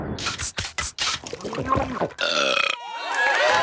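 Barney Gumble from The Simpsons lets out a long, loud, rolling cartoon belch that follows several brief clicks and voiced snippets, and it stretches out with a raspy, wavering tail toward the end.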